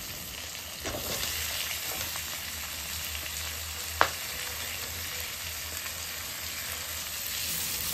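Chopped onions with green chilies sizzle steadily in hot oil in a pan, a dense, even hiss that runs the whole time, with a single sharp click about midway.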